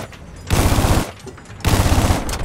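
A burst cannon fires in the Battlefield 4 video game, two loud, rapid bursts of rattling shots about a second apart, close and heavy, with no talk over them.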